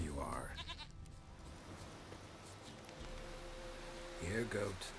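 A goat in The Witcher 3 gives a short harmonic bleat at the start and another near the end, with game ambience and someone speaking in between.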